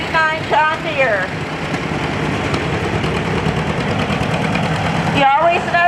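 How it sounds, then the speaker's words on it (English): A 1939 John Deere tractor engine idles with a steady, low, rapid putt-putt, loud and near throughout, while people talk over it at the start and end. "You always know the John Deeres because they got that little putt-putt 6-cylinder down."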